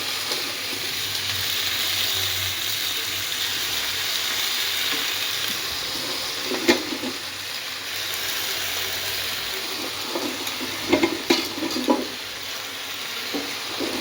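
Potato and pumpkin pieces frying in a pan with salt and turmeric, a soft continuous sizzle and hiss with a few brief clinks and scrapes of stirring near the middle and end.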